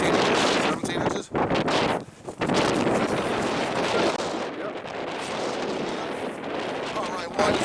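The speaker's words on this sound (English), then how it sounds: "It's getting a little windy now." Strong wind sweeps across a frozen lake during an ice fishing outing for steelhead, a loud, continuous roar buffeting the microphone with gusts that briefly dip and surge.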